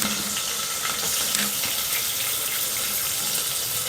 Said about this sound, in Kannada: ಸ್ವಲ್ಪ ಜೀರಿಗೆ, ಇವೆರಡೂ ಕೂಡ ಹಾಕ್ತಿದ್ದೀನಿ. ಇವಾಗ ನಿಮಗೆ ಚಟಪಟ ಅಂತ ಸೌಂಡ್ ಬರ್ತಾ ಇದೆ.